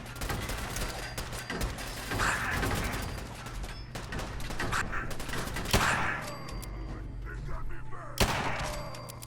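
Rapid pistol gunfire in the video game Fallout 4 comes as dense bursts of sharp shots with several louder isolated blasts, loud and close throughout with no talking.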